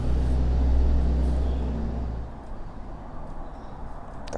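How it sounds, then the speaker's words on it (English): A large garbage truck rumbles close by with a heavy low engine drone that peaks and then fades as it moves away, leaving quieter street noise behind. "Garbage truck."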